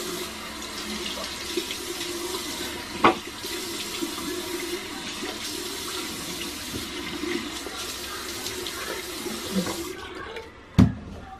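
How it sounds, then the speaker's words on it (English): Running tap water splashing steadily as a blueberry face mask is rinsed off, continuous and close, with a couple of sharp knocks near the end. "So I'm going to wash it off now."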